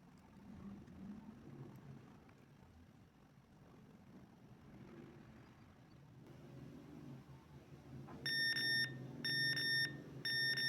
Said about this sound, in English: Now you can hear the alarm